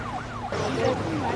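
An ambulance siren wails with a rising and falling tone, fairly loud and steady, joined partway through by a denser burst of sound.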